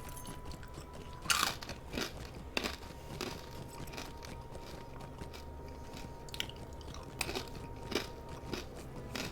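Someone bites and chews corn nuts close to the microphone, giving sharp irregular crunches and crackles with a few louder bites over about nine seconds, no talking.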